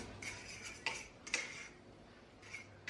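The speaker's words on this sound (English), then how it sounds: "then you just stir it back around in the pot" A spoon stirs food around in a cooking pot, giving a few light metallic clinks and scrapes spaced across a couple of seconds, close but quiet, with no talking.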